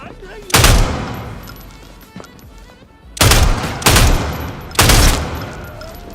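Bursts of .303 machine gun fire in Sniper Elite Resistance: a brief volley near the start, then three loud, close bursts in quick succession over a low ambient game background.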